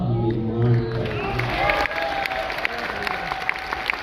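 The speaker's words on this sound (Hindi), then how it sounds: "तालियां भी बजा देते हो" An audience claps and cheers at a motivational gathering, a dense steady wash of applause with whoops and crowd noise throughout, a tonal sound fading early on.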